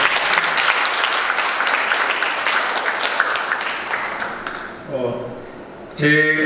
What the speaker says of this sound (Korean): 우리 큰 박수 좀 한번 보내주시죠